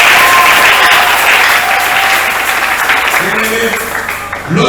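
A church congregation claps together in sustained, loud applause that fills the space and gradually thins toward the end, with no speech over it.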